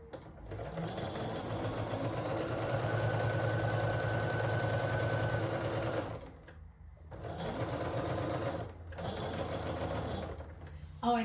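A sewing machine stitches a quilt in close, fast rapid-fire bursts, running steadily for about six seconds, then stopping and restarting in two shorter runs with brief quiet gaps.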